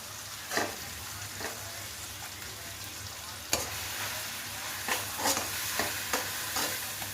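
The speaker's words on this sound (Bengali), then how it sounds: "পেঁয়াজ ভাজা হয়ে গেছে টমেটোটাও দিয়ে দিয়েছি এখন মশলাটা দিয়ে দেবো" Onion, tomato and spices fry in a pan for chicken kosha, a soft steady sizzle broken by several sharp spatula scrapes and knocks at irregular intervals, close up, no speech.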